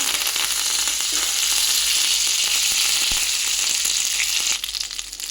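Dried red chilies and curry leaves sizzle loudly in hot oil, a dense, steady crackle that holds for several seconds before easing off near the end.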